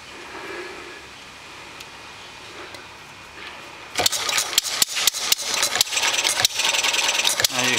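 A small engine running on a vapor fuel tank fires up about halfway through. It goes from quiet background to loud, rapid popping and sputtering running that continues unevenly to the end.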